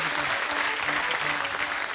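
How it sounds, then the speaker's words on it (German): A studio audience at a satirical gala claps quietly and steadily, a soft even patter of many hands with faint murmur underneath. "Ja, leise klatschen."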